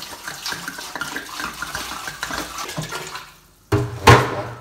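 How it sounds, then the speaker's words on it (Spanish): Water pours into a pot of chicken legs on a stove for soup, a steady splashing rush that dies away to silence, then a brief loud burst of splashing near the end, with no talk. "Ahí va la agüita, miren,"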